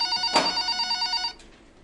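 A telephone rings with a bright, steady electronic bell for just over a second, loud and close, then cuts off into quiet.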